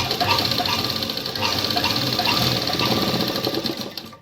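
A sewing machine runs steadily for about four seconds, stitching a hook-and-eye strip with a continuous, fairly loud mechanical whir and rapid needle clatter. No one speaks over it.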